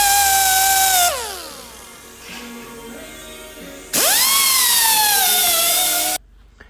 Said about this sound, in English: grind away the paint, and where these incoming welds will be going.